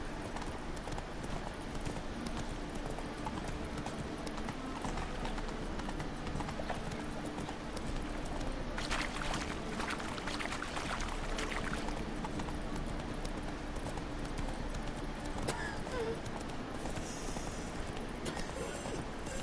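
Roach the horse gallops in The Witcher 3, rhythmic hoofbeats drumming continuously for the whole stretch with a steady pace over a busy background of game ambience.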